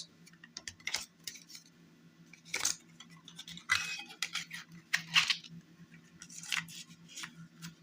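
A Tracy Chapman cassette case being opened by hand, with soft plastic clicks, ticks and light rattles scattered in short bursts, close and quiet, without speech.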